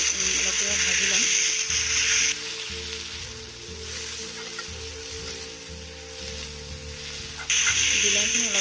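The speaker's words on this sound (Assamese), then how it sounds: "বিলাহীখিনি ঠিক হৈ আছে, অলপ দেৰি ভাজি ল'ম" Tomatoes frying in a pan for an Assamese potato-tomato fish curry, a steady broadband sizzle that drops quieter midway and swells again near the end, with low music-like tones running beneath throughout.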